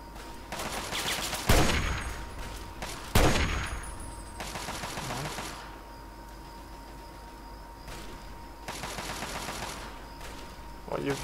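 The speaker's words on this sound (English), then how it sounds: "Stop shooting at me, that's really mean." Bursts of gunfire in Fallout 3 crack out at close range, with two sharp shots standing out, then longer stretches of rapid fire from the game's combat, over a steady low hum.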